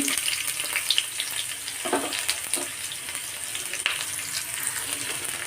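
Sliced onions sizzle steadily in hot coconut oil in a pan, a close, continuous crackling fry broken by a few scraping stirs.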